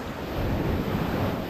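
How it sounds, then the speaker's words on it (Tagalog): Large ocean waves roll in as a broad, loud, steady wash of surf, mixed with gusty wind rumbling against the microphone, with no voices. "Talagang sobra ho ang lalaki alon ngayon."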